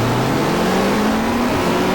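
Super touring cars from a 1995 Australian championship round at Mallala accelerate off the race start in the GTR2 video game, their loud engines droning together with rising revs that climb steadily in pitch, with no talk.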